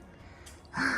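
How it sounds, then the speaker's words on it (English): A hiker on the Appalachian Trail breathes heavily while climbing a steep chute, a faint quiet stretch giving way to a louder, close, rough exhalation near the end. "Breathing a little heavy."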